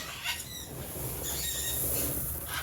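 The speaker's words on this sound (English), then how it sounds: "The birds are loud." Loud birds calling outdoors near a feeding area, shrill squawks and squeals repeating in quick bursts over a dense, noisy background, close and prominent with no talking.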